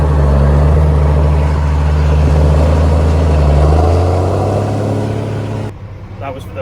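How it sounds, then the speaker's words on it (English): A John Deere tractor engine runs steadily on a farm field, a loud low diesel drone with a smooth even hum that holds for several seconds before easing off near the end. "That was for those that appreciate the sound of a John Deere engine."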